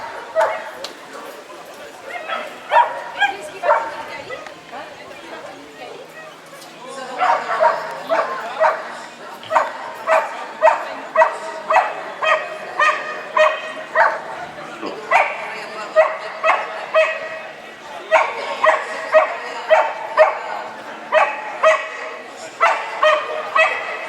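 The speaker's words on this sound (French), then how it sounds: "Ce chien, son aboiement était de contentement." A German shepherd barks repeatedly in quick, regular bursts, pausing briefly between volleys, fairly close and loud, with occasional yips mixed in.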